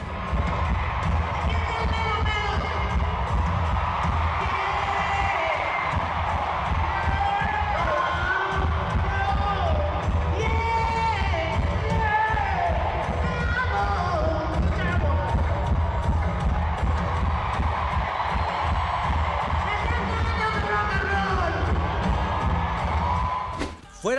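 A large concert crowd in Mexico City cheers, whoops and applauds, a loud, sustained roar of voices and clapping that stays dense and continuous throughout before cutting off at the very end.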